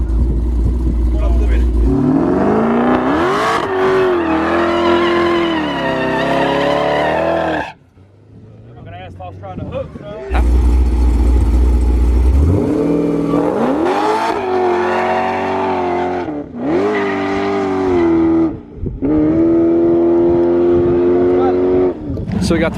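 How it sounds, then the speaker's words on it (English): Turbocharged drag cars, a Mustang with a Powerglide transmission and a six-speed manual turbo Corvette, rev hard and loud in two long bursts at a drag strip, with a short lull between them and people talking over the engines. "So we got the first real race right here. Glide turbo Mustang, and we're gonna have Sean, which is a 6-speed turbo vet"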